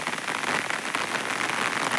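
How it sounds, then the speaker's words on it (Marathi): Steady rain falls outdoors in a rural area on an overcast day, a dense, even patter close by that keeps up without a break and is heard with no voices. "आभाळ आलेलं आहे आणि पाऊस तर लगेच चालू पण झाला."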